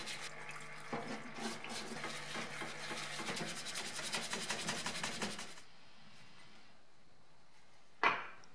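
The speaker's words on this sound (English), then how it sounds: "Firstly, I give everything a good clean with the parts washer to remove any old grease and dirt." Hand drill parts are scrubbed in a parts washer, a close, steady wet rubbing and brushing with flowing fluid for several seconds, then quiet and a single sharp knock.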